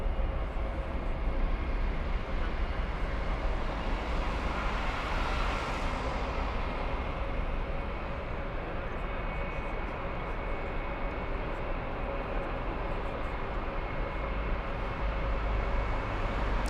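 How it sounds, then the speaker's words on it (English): A Lufthansa Airbus A321 at Frankfurt airport gives off a steady, broad jet engine roar that swells slightly midway and holds loud and constant throughout, with no voices. "Lufthansa going to Madrid. Lufthansa's 1122. That's an A321."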